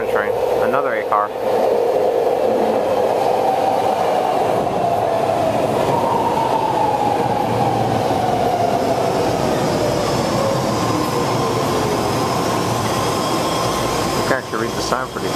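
An eight-car BART Richmond train rolls into the station, loud continuous rumble with a falling whine and rail clatter that holds steady before easing off at the end.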